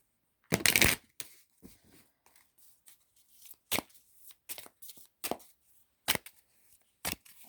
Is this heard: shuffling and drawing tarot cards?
yes